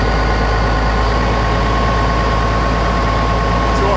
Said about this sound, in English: Now I want to pump my engine pressure up